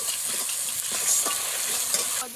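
Chili, turmeric and ginger fry in a hot pan, giving a steady, close sizzling crackle that carries on without a break.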